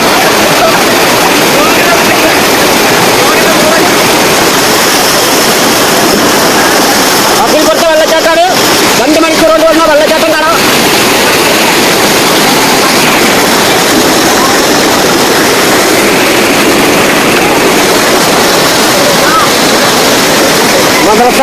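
A waterfall at Kakkidikkal gives a constant loud broadband rush of falling water, steady throughout, with brief voices talking over it near the middle.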